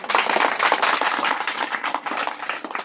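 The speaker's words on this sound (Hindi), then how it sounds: "मैं चाहती हूँ कि आप लोग के नाम पर जोरदार तालियों से स्वागत करें।" Clapping from an audience welcoming guests at a gathering, close and fairly loud, with quick uneven hand claps for about three seconds.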